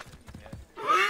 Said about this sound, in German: Ich schnapp mir mal ein Pferd.